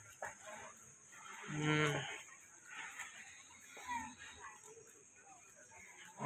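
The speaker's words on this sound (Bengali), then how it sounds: "গরু নামছে এখন" A cow lows in one loud, deep moo at a night-time cattle market. Quieter animal calls, clucking fowl and people talking fill the background.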